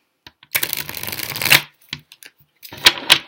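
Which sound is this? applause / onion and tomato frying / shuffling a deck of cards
shuffling a deck of cards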